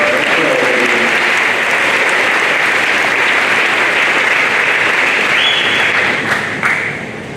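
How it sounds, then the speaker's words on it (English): A large audience at a high school awards ceremony claps steadily and loudly for several seconds, a dense wash of applause that tapers off at the end. "That deserves a round of applause."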